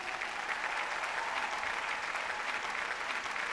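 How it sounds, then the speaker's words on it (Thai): Sustained applause from a seated audience at an Amway diamond-level pin award ceremony, a continuous even roar of many hands clapping at moderate loudness, with no talking on top. "ปรบมือให้ธุรกิจแอมเวย์หน่อยครับ"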